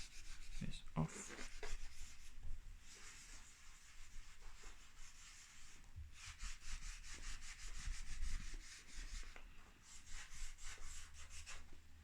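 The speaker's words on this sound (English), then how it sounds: "so let's rub this off." A board being wiped clean of music notation, heard as long stretches of steady scratchy rubbing strokes, close and fairly loud, repeating in bursts with short pauses between.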